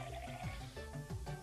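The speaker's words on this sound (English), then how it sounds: "Just hear that precious water." Water runs into a baby bottle in the game Mother Simulator. The flow is a faint, continuous trickle with soft gurgles rising in pitch as the bottle fills.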